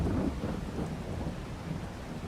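Thunderstorm with rain in the farming game Farming Simulator 22, a dense steady wash of rainfall and low rumbling thunder, loud and continuous with no voices.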